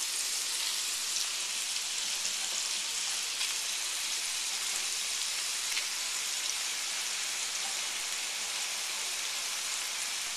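Potatoes, bacon and onions sizzle steadily in a pot, a constant close hiss and crackle of frying with no pauses and no talking.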